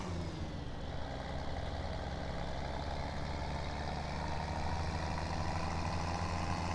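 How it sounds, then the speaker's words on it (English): A low, steady tractor engine idle in Farming Simulator 17 rumbles continuously with an even mechanical drone, unchanging throughout, no talking. "I do love the sound of this tractor."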